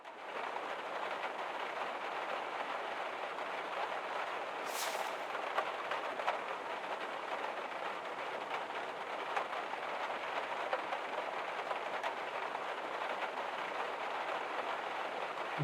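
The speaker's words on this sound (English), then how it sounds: "Oh, it's raining." Steady rain falls in the video game Rue Valley, a constant even hiss of drops on surfaces lasting the whole stretch, moderately loud with no voices.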